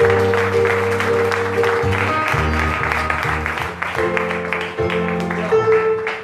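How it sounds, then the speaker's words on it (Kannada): A church congregation clapping hands during a Friday service, rhythmic clapping under loud music with sung or spoken voice throughout. "ಚಪ್ಪಾಳೆ ತಟ್ತಾ ಆತನ ಘನಪಡಿಸೋಣ"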